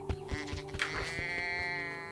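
A sheep bleats several times in a wavering, drawn-out cry used as a sound effect in a children's audiobook about a shepherd's scattered flock, fairly faint and alone with no narration over it.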